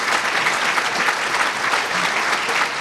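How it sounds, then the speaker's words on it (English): A room full of people bursts into sustained, dense applause at a feel-good community awards event in Door County, the steady clapping holding even and loud throughout with no pause. "And a round of applause for everybody"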